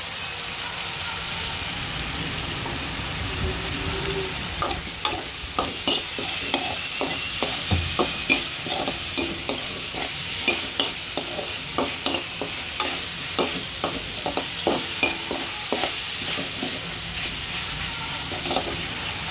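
Vegetable fried rice with vinegar, pepper and capsicum is stir-fried in a pan, with a steady loud sizzle and a spatula scraping and tossing in quick repeated strokes from about the middle onward.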